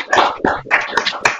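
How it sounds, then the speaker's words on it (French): A small audience at a French mathematics mini-course claps to thank the lecturer, a short burst of close, uneven hand claps with no talking. "qu'on applaudisse Mylène pour la remercier"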